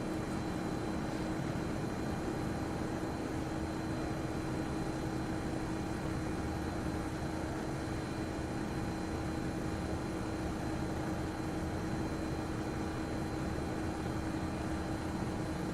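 A helicopter in Microsoft Flight Simulator 2024 flies a fast scenic route over Tasmania, its engine and rotor making a steady, unbroken, loud drone with no voices.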